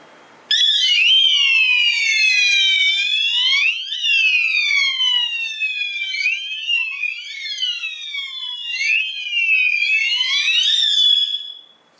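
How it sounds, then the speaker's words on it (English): A loud electronic fire alarm from an addressable sounder wails continuously, its pitch sweeping up and down in repeated cycles, sounding alone for about ten seconds. "I will trigger a fire alarm"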